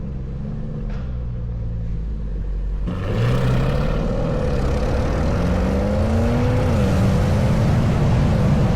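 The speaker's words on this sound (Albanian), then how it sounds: "Tash do marrim gjiro Cayenne Turbo GT-n" A powerful car engine rumbles loudly and steadily, its pitch climbing as it accelerates and revs through the gears.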